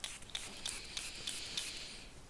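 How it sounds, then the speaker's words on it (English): Goddess essential oil spray, a lavender blend, misted in a short run of several quick soft hissing pumps, close and gentle, with no talking. "I'm actually going to spray some of the Goddess"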